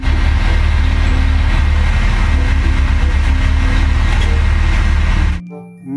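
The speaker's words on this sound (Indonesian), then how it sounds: "Mobil dump truk." A loud, steady rumbling toy dump truck engine sound drones continuously for several seconds, then stops abruptly.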